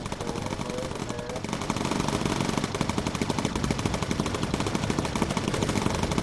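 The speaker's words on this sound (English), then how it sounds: "Focus fire with incendiary ammunition." Gunners aboard a bomber in the game Bomber Crew pour out rapid, sustained machine-gun fire with incendiary rounds, a dense rattling burst that thickens and continues without letup under engine drone.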